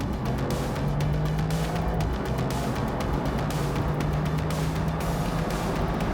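A performance soft-top convertible drives at speed, its engine giving a continuous steady drone with road and wind rush throughout, loud and close, with no talking.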